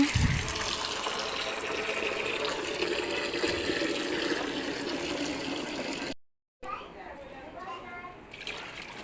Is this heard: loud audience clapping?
no